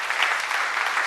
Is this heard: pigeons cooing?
no